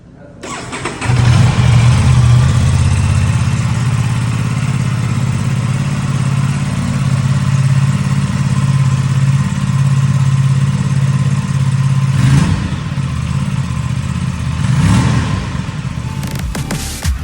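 An Aprilia RS 457 parallel-twin motorcycle engine fires up and holds a loud, throbbing idle, with a couple of sharp throttle blips near the end.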